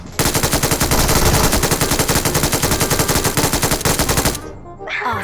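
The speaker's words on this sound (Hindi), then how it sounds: "चलो गोली चलाओ, गोली चलाओ, गोली चलाओ, गोली चलाओ।" Automatic gunfire in the BGMI mobile battle royale game, a loud, rapid unbroken burst of shots at a steady rhythm lasting about four seconds before cutting off abruptly.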